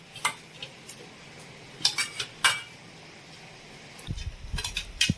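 Poppy seed paste mixed with salt and flour in a bowl, giving scattered clinks and scrapes of a spoon against the dish with a denser run of stirring knocks near the end; no talking.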